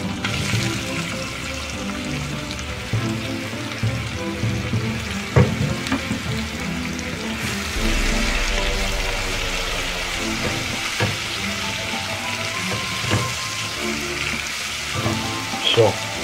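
Onions sizzle and stew in a heated pan with a little pepper while making lecho, a steady close frying crackle with occasional stirring clatter and brief background voices.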